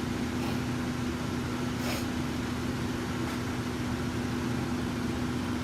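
Boeing 737-800 cabin at the gate, with a steady, even hum and drone holding throughout and a faint constant tone above it, plus a couple of soft brief hisses.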